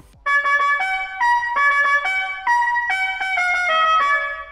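Custom external horn of a Tesla Model S Plaid playing the La Cucaracha melody, a bright electronic tune of quick repeated notes in short phrases, loud and clear with nothing else heard.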